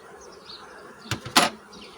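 Honey bees buzzing faintly and steadily around an open hive during frame inspection, broken by two short, sharper knocks or rustles near the middle.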